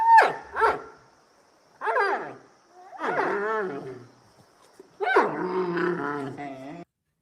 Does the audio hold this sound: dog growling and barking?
yes